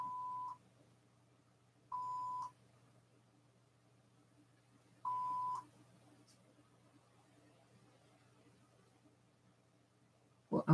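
A mobile phone that has slipped into reset mode gives off three separate electronic beeps, each a steady tone of about half a second, spaced unevenly against a quiet room hum, with a brief click at the very end.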